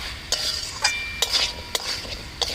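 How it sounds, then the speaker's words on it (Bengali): A utensil scrapes and taps in a pan as curry paste and poppy seed paste are stirred and sautéed, a few distinct scrapes over a soft, steady frying hiss, with no talking. "একটু ভালো করে নাড়িয়ে চাড়িয়ে কষিয়ে নেবো"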